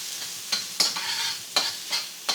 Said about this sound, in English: And just let it sizzle.